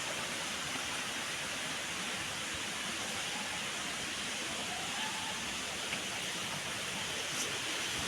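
Algama waterfall roars as a constant, dense wash of falling water heard from the very top of the falls, steady and loud with no break across the whole stretch.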